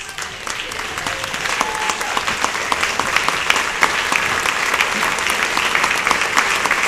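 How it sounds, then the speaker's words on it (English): Leadership attendees at a Morgan Hill chamber celebration stand and applaud themselves, a dense, sustained crowd clapping of steady loudness that fills the room throughout, with scattered individual claps standing out. "have all of the leadership attendees stand up and applaud yourselves"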